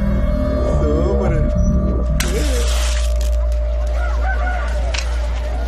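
A fighting rooster crows at a cock-fight betting scene, its call rising amid loud crowd noise and a heavy low hum, with voices and movement around it.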